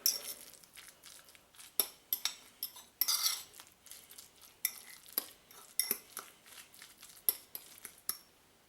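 Metal utensil scrapes and clinks against a bowl in irregular bursts while mixing tuna with mayonnaise, a close, bright stirring and mashing sound with no talking.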